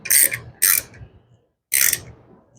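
A ratchet wrench tightens a bolt on a Ford 5.0 engine: three short bursts of rapid clicking, the first two close together, the third after a pause, loud and close with quiet gaps.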